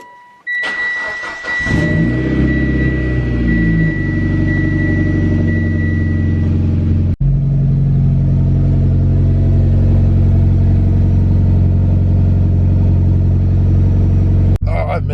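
Mitsubishi Evo 8 with an aftermarket catback exhaust but otherwise stock, starting up and then revving loudly and close by, with a steady deep engine drone that holds for most of the span and a brief dip partway through.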